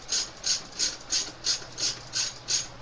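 Hand ratchet tightening a bolt on the alternator of a 2013 Kia Soul: eight even, rhythmic bursts of clicking pawl about every third of a second, close and moderately loud with no talking.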